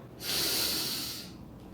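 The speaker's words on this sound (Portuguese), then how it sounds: "eu vou inspirar pelo nariz" One long, clear breath drawn in through the nose during a beginner singing breathing lesson, a soft airy hiss lasting about a second, close up.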